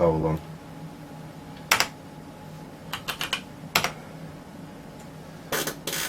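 Keys clatter on a Toshiba T1200 laptop keyboard in short, separate bursts of a few strokes each, close and fairly loud over a low steady hum, with a brief voice at the very start.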